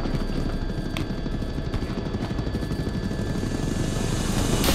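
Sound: helicopter rotor from a video game

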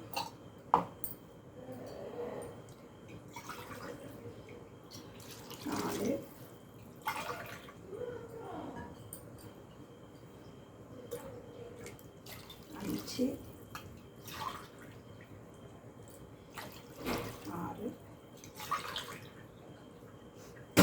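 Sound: pouring tumblers of water for tomato pongal

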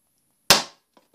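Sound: mine explosion destroying a German tank, video game

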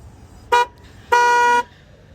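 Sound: car horn honking

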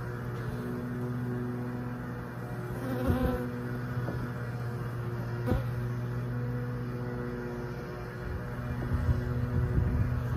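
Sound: honey bees buzzing while installed in a new hive

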